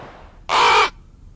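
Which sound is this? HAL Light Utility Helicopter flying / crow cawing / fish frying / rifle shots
crow cawing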